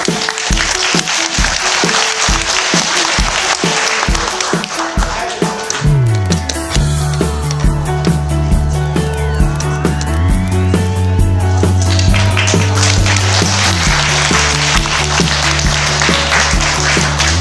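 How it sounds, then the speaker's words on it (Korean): Audience applause fills a large lecture hall in the National Assembly Constitution Memorial Hall at the end of a talk: a steady, dense wash of clapping that continues as music with sustained tones joins in partway through. "큰 박수"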